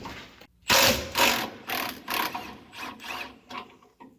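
A hand ratchet loosens 9/16 hanger bearing bolts under a Ford F-250 during transmission removal, giving a series of loud, close rasping clicks in quick strokes with short pauses between them.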